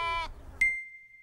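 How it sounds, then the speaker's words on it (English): A single short bleat, like a sheep's, sounds clearly at the start. A brief electronic beep follows and then holds as a thin steady tone. "Look. Sheep."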